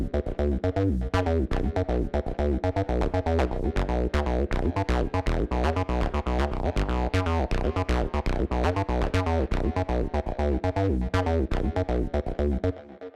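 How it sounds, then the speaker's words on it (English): Acid V synth runs a polymetric sequence whose lanes have different step lengths, giving a dense, steady stream of rapid buzzy acid notes with shifting accents, loud and continuous without any voices. "you can create short but evolving sequences with different step lengths for each sequencer lane"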